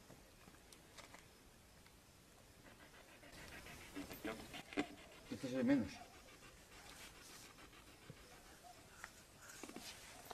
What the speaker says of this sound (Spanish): Aquí están los perros, los perros han empezado.